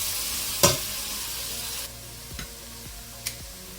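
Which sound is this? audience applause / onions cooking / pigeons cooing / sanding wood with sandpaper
onions cooking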